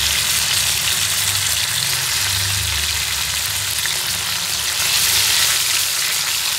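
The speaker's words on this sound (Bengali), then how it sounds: "বাটা মাছগুলো হালকা ফ্রাই হলে আমি বাটা মাছগুলোকে উল্টে দেবো।" Bata fish fry in hot oil in a pan with a loud, steady, close-up sizzle and crackle that runs without a break, with a low rumble underneath.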